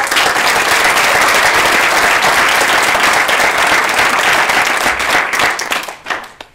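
A crowd at a community award ceremony gives loud, sustained applause for the recipients, thick and close, thinning into a few scattered claps at the end.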